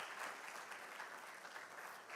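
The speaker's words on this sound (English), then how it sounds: "A round of applause once more." An audience applauds after a drumming performance, a brief steady burst of many hands clapping, fairly distant and even throughout.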